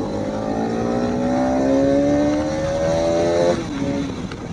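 A motorcycle engine revs hard and climbs steadily in pitch during a wheelie on an outdoor ride, loud and close, then drops off abruptly near the end.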